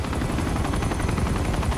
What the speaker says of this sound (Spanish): cómo cruje el helicóptero